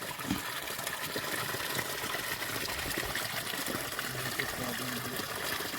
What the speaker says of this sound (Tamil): தண்ணி நீட்டாக ஓடுது.